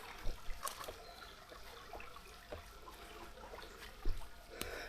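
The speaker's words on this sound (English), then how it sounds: "Waterfall. Other waterfall." Soft, continuous trickling and splashing water, like a small stream or cascade heard from nearby, with a few louder splashes.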